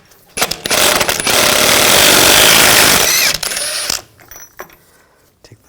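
A 12-point 36mm socket on an impact tool spins off the front axle nut of a 2000-2006 BMW X5, giving one loud, sustained mechanical burst of about three seconds, followed by brief clanks and quieter handling.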